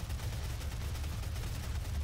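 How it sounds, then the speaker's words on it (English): A chaingun in DOOM spinning up and firing, a steady rapid rattle of shots with a rumbling low end, fairly quiet and continuous throughout, no voices. "Chain gun, spin it up."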